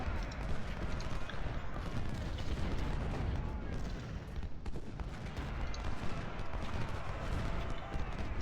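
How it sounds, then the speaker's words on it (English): Civil War battle in the video game Ultimate General: Civil War, with dense, continuous crackling musket fire and cannon booms forming a loud, unbroken din. "that cannon is starting to hurt us on this flank"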